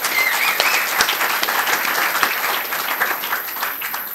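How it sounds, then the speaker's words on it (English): An audience at a civic event with the mayor of Wellington applauds after a drumming performance, a dense, steady clatter of many hands clapping close by, with a few sharper individual claps standing out. "Let's give them a round of applause."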